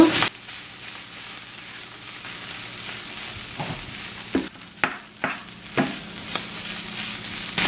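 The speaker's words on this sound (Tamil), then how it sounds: "இப்போ 1 நிமிஷம் நான் இந்த கிழங்கு போட்ட பிறகு கிளறி இது வதங்கி கொண்டிருக்கு" Potato and fish mixture sizzles steadily while being stirred and sautéed in a pan for fish roti filling, with a series of clear scraping stirs in the second half and no talking.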